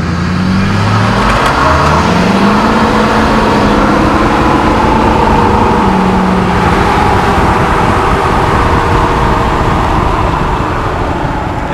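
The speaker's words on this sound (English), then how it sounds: "that is how you roll coal the right way with stock injectors and just a little programmer on your truck" A diesel pickup truck rolling coal in tow haul mode with stock injectors and a small programmer, its heavy engine droning loud and steady throughout, close by with a low rumble and no talk.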